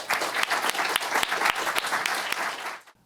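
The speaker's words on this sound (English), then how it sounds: "So, round of applause for our keynote," Audience applause greeting keynote speaker Musa al-Gharbi at a fall conference, a dense burst of clapping from a seated crowd that holds steady for about three seconds before cutting off.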